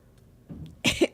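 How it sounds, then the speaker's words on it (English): A woman coughs twice, short and close, after a moment of near silence. "Excuse me for coughing."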